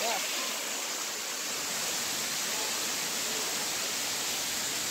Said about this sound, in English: but it's a good sized waterfall.